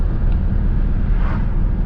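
Exhaust of a BMW 328xi sedan with the sport package, heard from inside while driving, a loud, low, steady rumble with wind noise.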